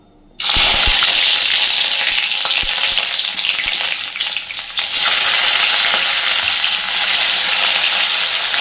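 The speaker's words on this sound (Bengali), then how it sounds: "তেল খুব সুন্দর গরম হয়ে গেছে। এবার আমি প্রথমে দিয়ে দিচ্ছি তেলের মধ্যে পেঁয়াজ কুচি" Chopped onion dropped into hot oil bursts into a loud, dense, hissing sizzle after a short silence, then keeps frying steadily with a brief dip and occasional stirring clicks.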